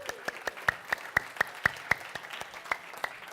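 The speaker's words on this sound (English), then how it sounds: "big applause for all of us." A small group at a conference session claps in a sparse, fairly even rhythm, about a dozen distinct claps standing out over soft background patter, faint and close.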